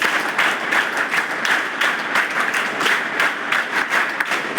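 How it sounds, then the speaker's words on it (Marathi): An audience at a Gadchiroli IAS event claps together, a loud, crowded applause with a slightly rhythmic pulse that carries on steadily throughout. "एक वेळ जोरदार टाळ्या स्वतःसाठी, जोरदार जोरदार."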